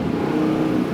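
A straight-piped Chevrolet Camaro SS engine held up against its rev limiter, giving a loud, close, steady droning note throughout with no talking.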